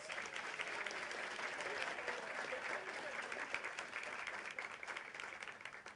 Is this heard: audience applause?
yes